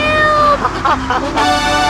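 Cat meowing in a Grand Theft Auto 3 radio advertisement, a few loud, drawn-out meows close up, with a faint voice briefly underneath.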